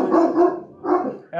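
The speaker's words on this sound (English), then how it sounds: "You can hear all our dogs in the background." Dogs bark in a couple of quick bursts, fairly close, with a brief pause between them.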